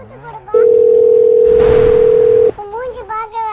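A phone line tone rings out on an unanswered call, one long steady beep lasting about two seconds, with a burst of noise in the middle and talking before and after.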